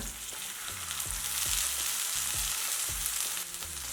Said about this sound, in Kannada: ಈಗ ಬೆಂದಿರೋ ಜೋಳ ಸೇರಿಸ್ಕೊಳ್ಳೋಣ